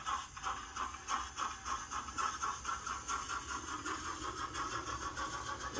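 A Bachmann Caledonian Railway 812 Class 0-6-0 model steam locomotive, No. 828, running with DCC sound, giving off a steady rhythmic chuffing beat of regular puffs with a light mechanical rattle, close and continuous.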